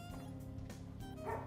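A dog yips and whimpers a few times in short bursts, moderately close, with a slightly louder yelp near the end.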